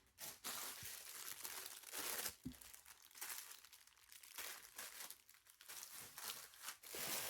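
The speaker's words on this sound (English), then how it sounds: "And then maybe the crinkling will go away." Loud, continuous crinkling and rustling of plastic packaging as craft supplies like feather and bead trim are pulled from storage bins, close by with sharp crackles and brief pauses, no talking.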